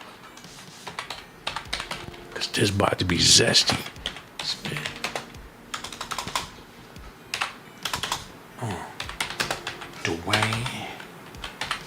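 Rapid bursts of computer keyboard typing clatter in uneven clusters, close and crisp, while someone talks over and between the keystrokes.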